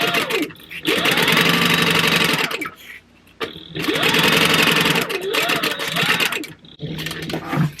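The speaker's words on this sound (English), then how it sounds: "I'm just going to be sewing across the top with the orange." A sewing machine stitches across vinyl with orange thread, its fast whirring motor running loud and close in three long bursts separated by short pauses.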